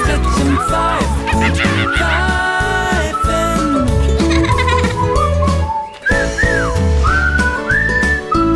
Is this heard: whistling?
yes